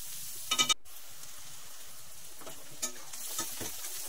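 Onions frying in a pan until reddish-brown for an echor chingri recipe, a steady soft sizzle running throughout with a few brief clatters of utensil stirring near the start and scattered crackles later.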